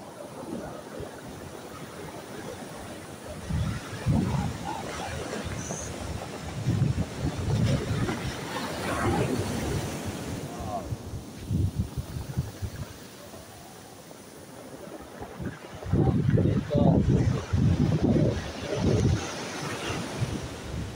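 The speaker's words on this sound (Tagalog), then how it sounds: "malakas ang alon kasi malakas din ang hangin" Strong ocean surf on the coast of Jeju Island, South Korea, with heavy wind buffeting the microphone; waves surge and crash in repeated loud bursts, with a big swell near the end, and no talking.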